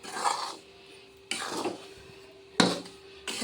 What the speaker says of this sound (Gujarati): આપણે ધીમા ગેસે સખત હલાવતા રહેવાનું છે